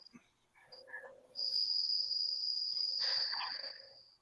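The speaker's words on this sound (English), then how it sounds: "shut that cricket up" A cricket chirps indoors with a loud, steady high trill that runs almost without a break after a brief softer start, heard alone without talk.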